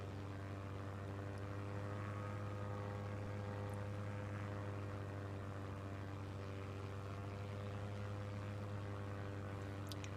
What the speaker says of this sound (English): I am in an aeroplane that happens to have pontoons